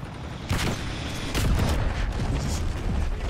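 Gunfire in Black Ops 6 as shots are fired through walls, a dense burst of booming shots with steady rattling bursts running through the whole stretch, loud and close.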